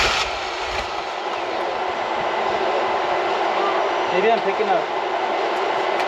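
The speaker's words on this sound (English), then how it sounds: "Sounds like the fuel pump. Yeah, I hear it going." Electric fuel pump on a rock crawler whirs steadily after vapor lock stalled the engine on a Colorado trail, a constant broadband hum heard close with someone speaking briefly over it.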